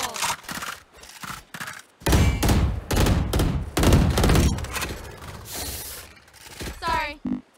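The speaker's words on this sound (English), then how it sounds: "Reloading." Weapon reload in the shooter game Valorant: loud clicks, clacks and metallic mechanism noises in quick bursts, with gunfire-like bangs mixed among them and a voice speaking briefly toward the end.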